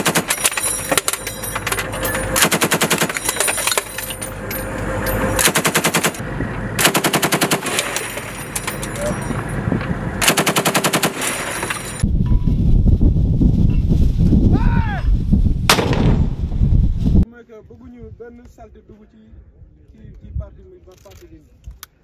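Bursts of machine gun and rifle fire at a military firing range during an army exercise in Tunisia, loud, rapid and repeated, with some talk and a quieter stretch near the end.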